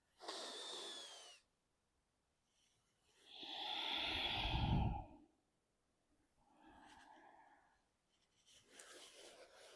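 Energetic breathing exercise: a sharp exhale, then a long loud inhale, then softer breaths with pauses of silence between them, close to the microphone.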